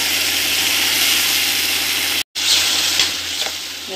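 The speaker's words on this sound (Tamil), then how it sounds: "இந்த தக்காளி ஒரு ஒரு நிமிஷம் நல்லா வதங்கட்டுங்க." Ginger, garlic and large tomatoes ground into a paste sauté loudly in a hot pan, a dense, steady sizzle broken by one sudden brief cut before resuming slightly softer.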